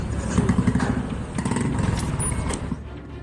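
Motorcycle in Madhya Pradesh, India, carrying an unconscious man, its engine rumbling and clattering close by with rough bursts and scraping noise throughout.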